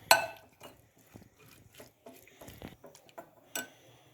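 Chicken with black pepper, salt and spices being mixed in a bowl gives a string of light clinks, taps and soft scrapes, close and fairly quiet, at an uneven rhythm.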